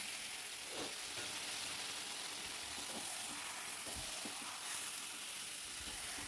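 Greens fry in a pan with a faint, steady sizzle and hiss, broken by a few soft stirring taps, with no one talking.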